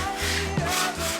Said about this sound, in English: Next we're going to just lightly sand down the sides